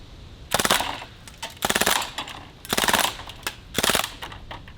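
A full-auto BB gun fires four rapid bursts, each about half a second long, at orange sporting clay targets. The rattling strings of shots are close and loud, with short gaps and faint impacts between bursts.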